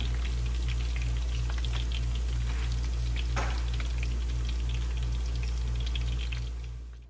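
Onions frying in toborgee oil for a Liberian pepper dish: a dense, continuous sizzle and crackle, loud and close, steady throughout before easing off at the very end.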